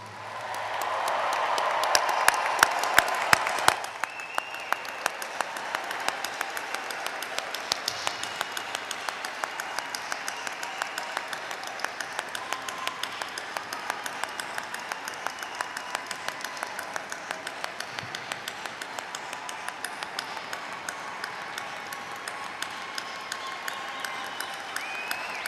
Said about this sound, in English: our newest graduates deserve a really, really loud round of applause